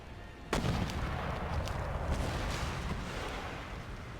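Mortar artillery fire in the battle game Empire: Total War, a sudden loud blast followed by a dense rumbling of further distant shots and crackling gunfire that gradually tapers off.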